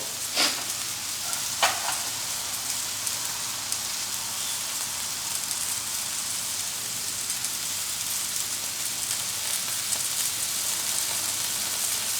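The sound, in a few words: tempering sizzling in hot butter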